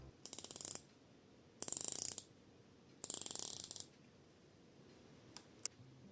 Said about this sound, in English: like all Steinhart bezels, the action is absolutely fantastic.